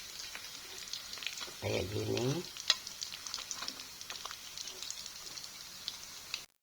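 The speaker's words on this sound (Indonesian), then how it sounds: "Tuh baksonya aku goreng aja, nggak aku campur di sop." Bakso meatballs frying in hot oil give a steady sizzling hiss that swells briefly as they are stirred, with someone talking over the frying.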